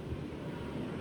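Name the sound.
loud water waves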